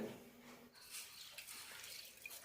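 Water sloshes and splashes as horse gram is rinsed by hand, a steady wet swishing with light clinks, close by and moderately quiet.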